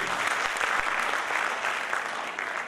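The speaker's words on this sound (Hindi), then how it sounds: "बस एक बार मुस्कुराते हुए जोरदार तालियां बजाइए" An audience at a qawwali program claps loudly and continuously, a thick, even wash of applause that stays steady from start to finish.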